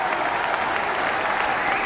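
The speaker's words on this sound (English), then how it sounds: "And very generous round of applause from just about everywhere." A stadium crowd at an England vs India Test cricket match in 2007 gives a generous round of applause, a dense, steady wash of clapping that holds evenly throughout.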